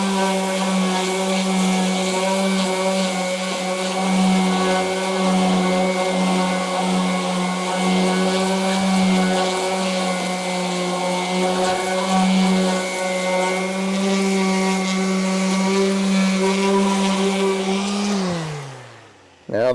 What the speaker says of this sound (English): Let's hit it with the sander again.